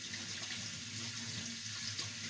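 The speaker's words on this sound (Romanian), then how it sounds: "Dați să mă spăl pe mâini." Tap water runs steadily into a sink while someone washes their hands in a kitchen, during the making of potato gnocchi; a constant close splashing hiss with no talk.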